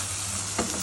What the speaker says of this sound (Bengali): লবণ দিয়ে সবগুলোকে আবার ভালো করে নেড়ে ছেড়ে ভাজা করে নিতে হবে